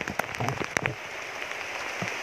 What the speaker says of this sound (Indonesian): karena hari ini hujan